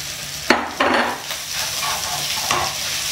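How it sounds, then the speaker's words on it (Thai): Rice noodles being stir-fried with pork in a wok over high heat for pad see ew, with sizzling and a few sharp stirring scrapes near the start, continuing as a steady fry without talk. "ใส่เส้นลงไปผัด"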